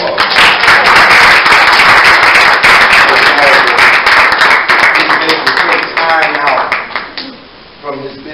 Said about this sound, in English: Let's give the man another round of applause